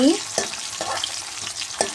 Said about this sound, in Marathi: मोहरी टाकली आहे लसूण टाकला थोडासा लालसर झाला की मग